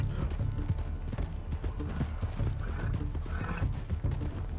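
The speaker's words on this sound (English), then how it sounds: "I know the horse is jumping all over the place" Horse galloping and jumping in Red Dead Redemption 2, a dense rapid thudding of hooves with rattling tack, loud and close throughout with no pauses.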